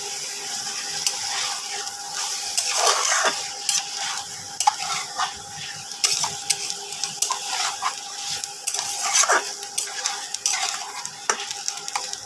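Chicken makhani gravy sizzles steadily in a pan while a spoon scrapes and stirs it in repeated strokes, with soft clicks of utensil on metal over a continuous frying hiss.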